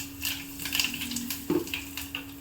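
Mustard seeds spluttering in hot oil: scattered, irregular little pops and crackles over a faint steady hum, fairly quiet throughout.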